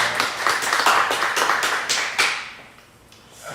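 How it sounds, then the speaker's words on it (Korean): A church congregation at a Wednesday worship service applauding together, a dense, loud burst of clapping that fades out near the end. "감사의 박수 한번 올려드릴까요?"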